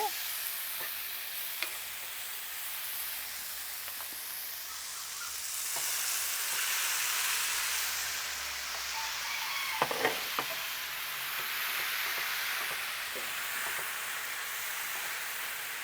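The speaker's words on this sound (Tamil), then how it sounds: "இனி நாங்கள் இந்த கறியை போடுவோம்" Mutton sizzling with onions in a pan, a steady hissing fry swelling in the middle, with occasional scrapes and knocks of stirring, close and moderately loud.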